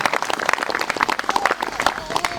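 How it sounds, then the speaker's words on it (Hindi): Church congregation applauding together at a healing prayer service, a dense, fairly loud patter of many hands with a sustained crowd quality throughout. "सब ताली बजाएंगे यीशु मसीह के लिए।"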